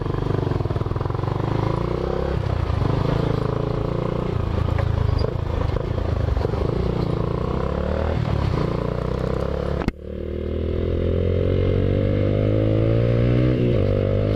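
Honda Fan 125 motorcycle riding and accelerating, a steady close engine drone with rising revs, then a brief cut before the engine pulls again in a climbing tone.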